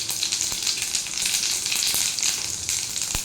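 Bay leaf and white cumin sizzle steadily in hot oil in a pan, a dense continuous crackle with a few sharp pops, close and fairly loud, no talking.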